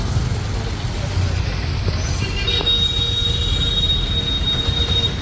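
A train rumbles at Kozhikode railway station, wheels squealing with a sustained high metallic whine in the second half over low engine noise.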